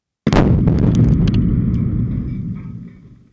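Breaching charge detonated against 100mm pre-stressed concrete, a single sudden loud blast followed by a deep rumbling roar that slowly fades over about three seconds.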